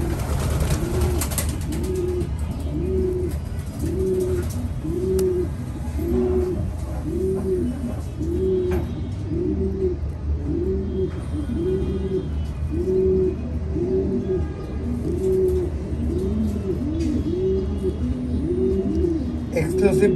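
A pigeon coos repeatedly while laying an egg into a person's hand, the low rolling calls coming close and clear in a steady rhythm of about one every second and a half, with faint background noise.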